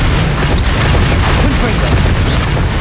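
A fire spell blast in Hogwarts Legacy gives a loud, sustained roaring whoosh of flame with rumbling low booms throughout, dense and continuous for the whole stretch.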